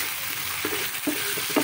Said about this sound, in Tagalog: isahin na natin mabuti hanggang sa magkulay brown